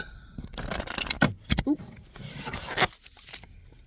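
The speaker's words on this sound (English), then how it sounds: "That wasn't quite a good shuffle." Quick riffling and snapping of playing cards being shuffled, a few short bursts of papery flutter close to the microphone, with faint background noise.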